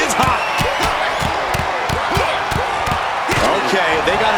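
Repeated punch impacts land in a rapid, uneven rhythm over a roaring, cheering arena crowd in the WWE 2K26 wrestling video game, with a commentator's voice running over the brawl.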